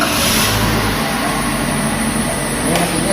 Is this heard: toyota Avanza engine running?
yes